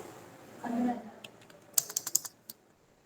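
Typing on a computer keyboard while entering accounting data in Tally software, a soft murmur first, then a quick run of six or seven crisp, close keystrokes with a final single tap.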